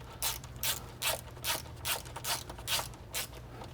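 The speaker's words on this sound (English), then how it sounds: "Now I'll go ahead and tighten down our 18 millimeter bolts." A ratchet tightens 18 mm subframe bolts on a BMW E90 M3, giving eight or nine evenly spaced, close, crisp ratcheting bursts in a steady back-and-forth rhythm with no talking.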